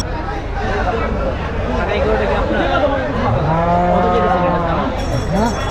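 Cattle at a Qurbani livestock market, with a cow letting out a long, loud, close moo partway through, amid steady crowd babble and people talking nearby.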